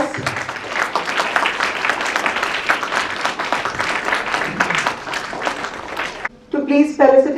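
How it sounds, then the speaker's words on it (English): Audience applause at a book release ceremony in a college hall, a steady patter of many clapping hands lasting about six seconds, then a speaker's voice takes over as the clapping stops. "We can do with a bigger round of applause."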